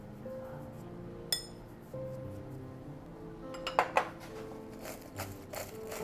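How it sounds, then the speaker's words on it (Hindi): Crispy french fries tossed with salt and white pepper powder in a metal bowl, a few light clinks and rattling knocks scattered over a steady low hum, close and quiet, with no voices. "आप आवाज़ से ही समझ सकते हैं कि कितने क्रिस्प अच्छे हुए हैं"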